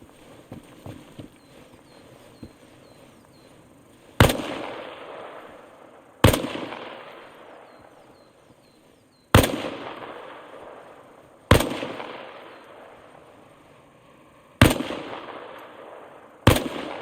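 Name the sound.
gunfire in the video game Arma Reforger tutorial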